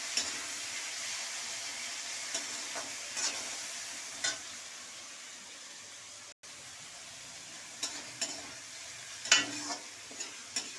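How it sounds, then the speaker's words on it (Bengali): Onion, a fish head and shrimp being stirred and fried in a pan, a faint steady sizzle broken by soft scraping stirs and occasional light clinks, no voices. "এই মুড়োটা আর সেখানে চিংড়ি মাছটা দিয়ে দিলাম, একটু হালকা করে নেড়ে নিই"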